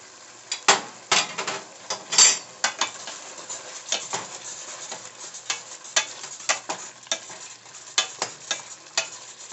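Meat cooking in a pan gives a steady low sizzle, broken by frequent sharp scrapes and clinks of a utensil stirring against the pan, with no talk.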